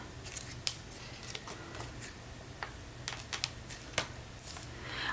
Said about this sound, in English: we got a little bit of overhang. No worries, we'll just trim that right off.